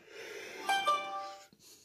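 A person gives a single close, breathy voiced yawn lasting about a second, followed by a short soft snuffle.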